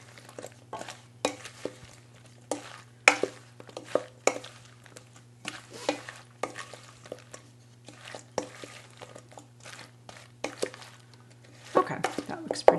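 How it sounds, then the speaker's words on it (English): Okra pieces are stirred in batter in a bowl, giving soft repeated wet squishes and light utensil clinks at an irregular rhythm, fairly quiet and close, while a person talks over a low steady hum. "And just stir it around to get it all really well coated"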